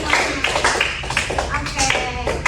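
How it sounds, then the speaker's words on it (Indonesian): A class of students clapping for a classmate during a lesson, brief uneven claps and taps mixed with voices talking, fairly close and moderately loud. "tepuk tangan dulu yuk buat Lilia semuanya."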